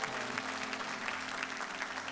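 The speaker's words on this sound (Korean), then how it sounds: "우리 찬양받기 합당하신 주님께 감사와 영광의 박수 한번 올려드리겠습니다" Church congregation clapping together during a Korean Sunday worship service, a dense steady round of applause that fills the whole short moment without pause.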